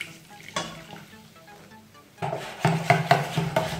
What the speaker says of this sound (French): On mélange notre pâte